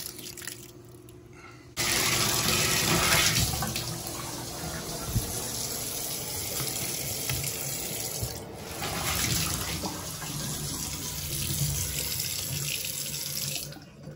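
Water rushes steadily through a flushed rainwater catchment filter system, a loud, continuous gushing flow that starts abruptly after a short quieter lead-in and holds for the rest of the clip.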